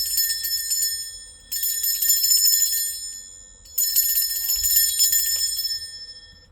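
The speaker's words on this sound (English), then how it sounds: "I am going to ring a bell real quick" A bell is struck three times to cleanse the space, each ring bright and shimmering, then fading slowly before the next strike, heard alone and close.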